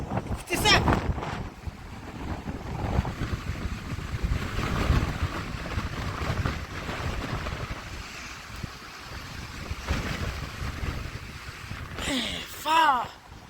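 Violent wind of about 70 to 90 km/h gusting through trees, a loud continuous rushing roar buffeting close to the microphone, with brief voices and a sharp whistling gust near the end.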